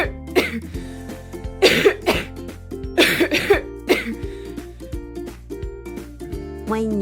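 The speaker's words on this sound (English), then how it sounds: "When your throat feels scratchy, you cough." A child coughs in a few sharp bursts, some in quick pairs, close and clear over a light melodic music bed.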